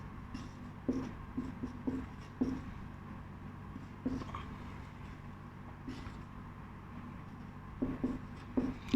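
Chalk or marker writing on a board during a classroom math lesson, a series of short scratchy strokes in uneven bursts, fairly faint against quiet room noise.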